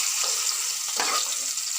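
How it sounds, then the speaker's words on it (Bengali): Salted potato pieces fry in oil in a pan in a Bengali home kitchen, a steady close sizzle with a brief stirring swish and no voices. "একটু লাল লাল করে ভেজে নেবো আলুগুলো।"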